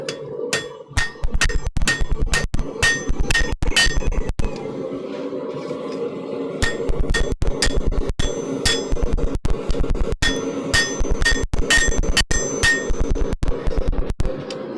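A blacksmith strikes hot metal with a straight peen hammer in a forge, steady loud ringing blows close by, a rapid regular run that pauses briefly midway before resuming at the same pace.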